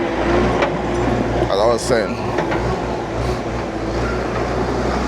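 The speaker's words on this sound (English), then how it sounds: "That's the tractor," A tractor engine idles and rumbles at a home construction site in Jamaica, a steady low drone with a few clanks and scrapes while someone talks over it.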